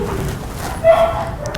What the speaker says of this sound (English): Made the dog next door bark, but not Clifford.